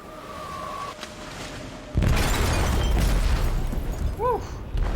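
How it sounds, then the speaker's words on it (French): In the video game Detroit: Become Human, a blast goes off near a ship's hold, opening with a sudden loud boom that rolls into a sustained heavy rumble, with a faint tonal sound before it and a few small chirps afterward. "Ça, c'est de l'explosion."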